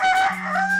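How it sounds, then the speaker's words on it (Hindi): Farmyard fowl, a rooster with two hens, let out a loud, close honking call with a sustained squawking tone, heard alone without talk. "ये है जी मुर्गा और बाकी 2 मुर्गियाँ ये पे हैं"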